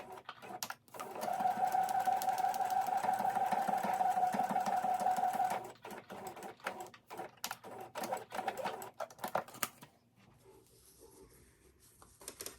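A sewing machine runs in a steady rapid whir while stitching a quilt block, starting and stopping with a long continuous burst followed by shorter choppy runs and quiet handling noise, close up with no talking.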